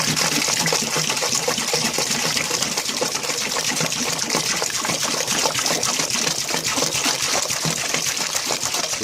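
Spring water glugs and splashes steadily out of a large 10 litre bottle, making a loud, continuous gushing pour that runs the whole time with no talking.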